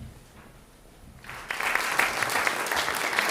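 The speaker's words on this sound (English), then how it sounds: "One more round of applause for all the speakers tonight." Applause from an evening event audience rises after a quiet moment into a sustained, fairly loud wash of many hands clapping together for the speakers.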